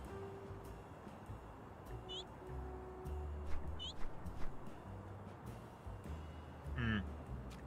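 A few short, bright duck quacks in the video game Cat Mischief, spaced seconds apart over a steady bed of game ambience and low background music.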